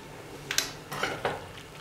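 Pasta being stirred in a pot of water, with two or three quick clinks of a utensil against the metal pot over a soft background hiss.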